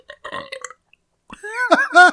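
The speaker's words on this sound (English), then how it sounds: "People pay me to burp." A loud, drawn-out burp after a swig of cold Coke, rising in a few gurgling pulses and following a short stretch of quiet speech.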